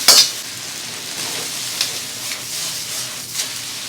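Instant noodles stir-fry in a wok with ham sausage and greens, a steady close sizzle opening with a sharp hissing burst, then periodic scraping stirs.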